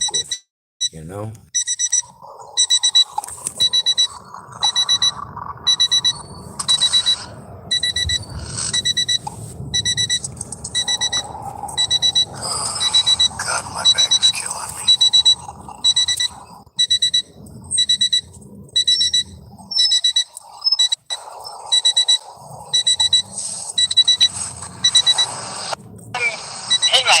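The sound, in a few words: continuous electronic beeping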